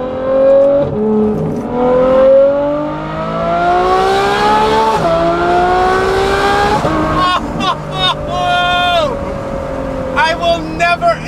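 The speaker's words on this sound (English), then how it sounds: "an F12 with a catless exhaust from a proper exhaust manufacturer, it's the best sounding car in the world" Ferrari F12 V12 with a catless exhaust revving hard and loud, a rising wail climbing in pitch through several gears, then sharp blips and crackles near the end.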